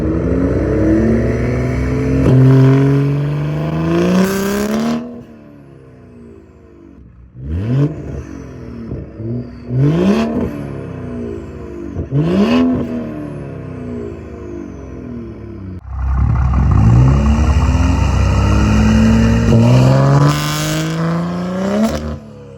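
Loud, close BMW M235i and M240i engines revving hard in repeated bursts with anti-lag set at 8 PSI, sharp pops and crackles between throttle blips, rising and falling pitch.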